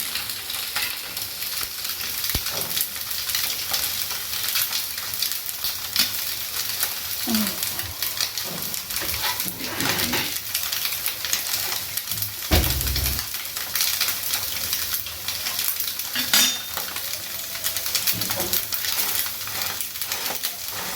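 Rice fries in a hot pan with a loud, constant sizzle, stirred now and then with scraping and clinking. A few soft, brief voice sounds rise under the frying.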